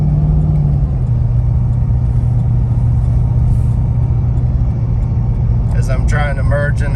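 A 416 stroker car with FI spacers, a 4600-4800 stall converter and a 2.38-inch pulley drives along with its engine in a loud, steady low rumble throughout. A brief voice cuts in near the end.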